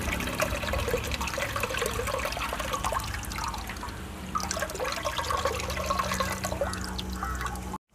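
Dissolved tamarind water is poured into a prawn head gravy, a steady liquid splashing and trickling that runs for several seconds close by, then stops abruptly.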